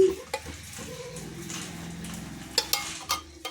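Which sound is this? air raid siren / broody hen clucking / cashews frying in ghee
cashews frying in ghee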